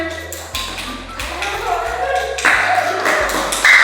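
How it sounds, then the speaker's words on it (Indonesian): A classroom of students breaks into applause, a patter of hand claps and taps that runs steadily throughout, with a few voices mixed in. "Tepuk tangan."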